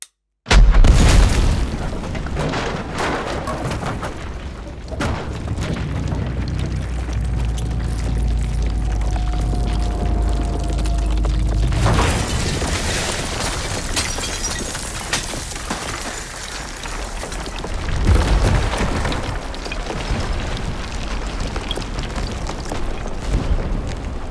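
An old Fort York cannon fires from a castle keep at redwood walls in a battle setting, a deep loud boom followed by a long rumbling roll and scattered crashing debris, then a second heavy blast later on.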